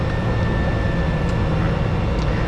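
A Cessna Caravan single-engine turboprop taxiing, its engine a steady, loud broadband roar with a faint high whine, heard up close from inside the aircraft with no pauses.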